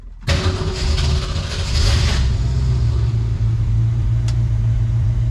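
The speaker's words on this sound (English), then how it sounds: "See, you rev it and it dies." A 1966 Ford Mustang engine fitted with Sniper EFI, close and loud: a rough revving burst that sags into an uneven, low idle rumble as the engine struggles and nearly dies.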